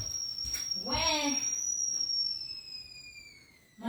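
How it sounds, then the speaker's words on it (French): A household water heater whistles with a steady, piercing high tone that runs throughout and slowly fades, while a voice briefly talks over it near the start. "Mon chauffe-eau, c'est ça qui siffle comme ça."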